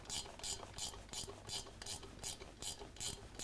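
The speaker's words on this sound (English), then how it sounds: "So we need a 3/8 ratchet wrench" A 3/8 ratchet wrench working on the rocker box bolts of an S&S Cycle motorcycle engine, clicking in steady, evenly spaced bursts of pawl ratcheting, close and fairly quiet with no talk.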